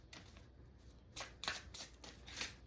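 A tarot deck being shuffled by hand: a run of quiet, crisp riffling bursts that quicken toward the end, with no one speaking.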